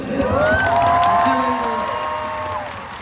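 A huge stadium concert crowd at Seoul's Jamsil Olympic Stadium cheers and applauds, with high screams and whoops rising over a roaring wall of clapping that stays loud and sustained.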